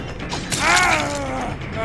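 A short mechanical creak and ratcheting groan swells and fades, a close metallic whine as a generator is repaired in the video game Dead by Daylight.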